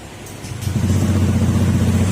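A small motorcycle engine that had been misfiring and hard to start now revs up close by, its loud steady drone building during an acceleration test, alone without talk.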